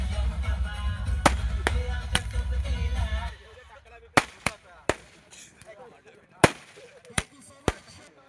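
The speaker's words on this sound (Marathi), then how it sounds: "काही नाही बघा फटाके घेतले तो वाजवायला." Firecrackers going off at a night cricket match: a crackling burst for about three seconds, then a string of sharp, loud single bangs spaced a second or so apart, with crowd voices in the background.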